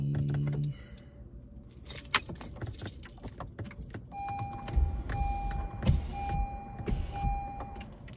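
Keys jangle up close while a car is being locked at night, with bright metallic rattles followed by the hum of power windows closing and a few more jingles and thumps.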